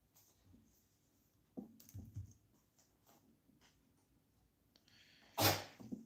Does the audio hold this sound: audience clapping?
no